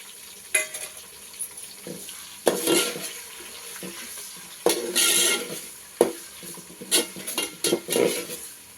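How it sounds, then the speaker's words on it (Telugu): Onion and tomato cooking in a pan for sambar, with intermittent stirring scrapes and clinks of a utensil against the pan over a soft sizzle, close by and without talk. "ఈ ఉల్లిగడ్డ బాగా వేగిందండి ఇప్పుడు ఈ టమోటా వేసుకుందామండి"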